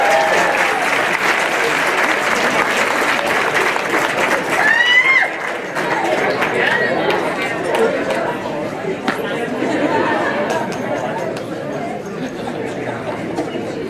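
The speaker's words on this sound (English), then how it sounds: "One more round of applause for Tom Drake." Sustained audience applause fills the room at a personal finance blogging awards ceremony, a dense, steady wash of clapping with crowd chatter mixed in, holding loud for the whole stretch.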